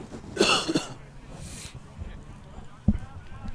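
A sports announcer's short, sharp cough near the start of a youth football match commentary, then a quiet stretch and a brief low throat sound later on, close to the microphone.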